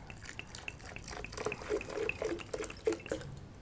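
Filtered water pours and drips in a kitchen while a celery-pulp pizza base is prepared, a gentle trickle with a rhythmic series of bright splashes and drops, close and fairly quiet.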